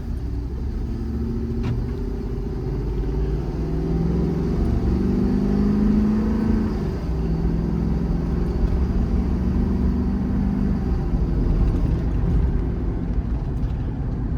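A 2021 Ford F600 truck with a 7.3 V8 and 10-speed automatic accelerates steadily through its gears, a loud, continuous low engine rumble swelling and easing as the shifts come, with no talk over it.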